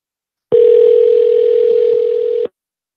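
A steady telephone call tone sounds while a number is redialed: one loud, continuous, unbroken beep that holds for about two seconds and then stops cleanly.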